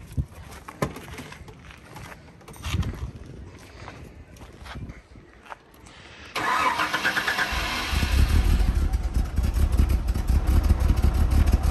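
A Chevrolet Omega engine cranks and catches partway through, then runs loud and uneven with a rough, misfiring idle. Voices talk over the engine throughout.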